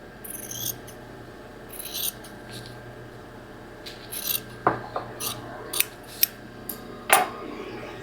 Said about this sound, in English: Make sure I'm only cutting through one layer.